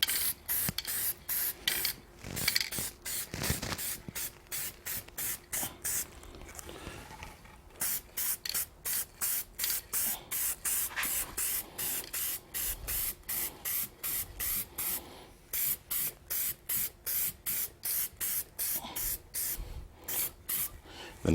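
Bursts of aerosol spray paint laid on as a light touch-up coat over a Yoder smoker, short hissing sprays in a quick regular rhythm with a few brief pauses, close and fairly loud.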